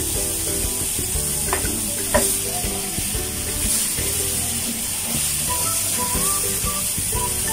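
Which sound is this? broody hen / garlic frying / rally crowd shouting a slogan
garlic frying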